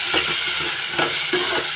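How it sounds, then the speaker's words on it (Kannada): Chopped tomato sautéing with onion and curry leaves in a pan of tempering oil, a soft continuous sizzle broken by a few close stirring scrapes, with no talking. "ಟೊಮೆಟೊ ಸ್ವಲ್ಪ ಬಾಡಿಸ್ಕೊಳ್ಳೋಣ."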